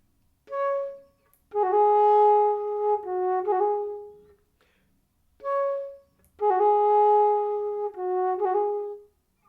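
A baroque flute traverso plays two matching phrases, each with a short lifted note and a slight gap before a mordent ornament on the beat. The sustained tones are close and clean, and there is no talk.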